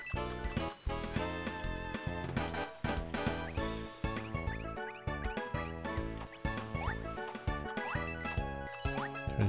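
Bright chiming jingles and tinkling collection tones from the Super Princess Peach video game ring out in quick repeated bursts over bouncy game music, loud and continuous with no voices.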